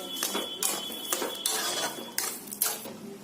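A spoon scrapes and clinks repeatedly against a pan while sugar and red chili powder are stirred into homemade tomato ketchup, a steady rhythm of metallic strokes close up, with no talking.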